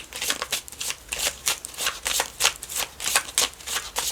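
Tarot cards shuffled at close range in a steady rhythmic series of crisp riffling swishes, loud and continuous, with no speech.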